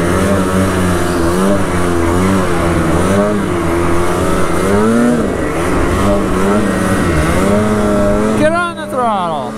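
A motorbike engine revs steadily as throttle is applied on a hill ride, its pitch rising and falling in waves, loud and close, with a brief shift near the end.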